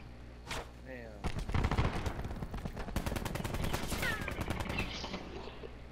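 Gunfire in a multiplayer shooter game, a loud close burst of rapid automatic shots with a few single cracks around it, over faint background noise.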